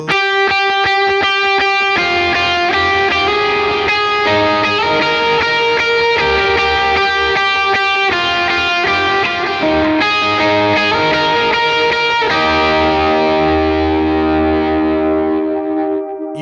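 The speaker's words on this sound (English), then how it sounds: "If you add the reverb and delay and play it in time" Electric guitar played in time through reverb and delay effects, a Christmas carol melody with sustained ringing notes and echoing repeats layered into a dense wash, ending on a held chord.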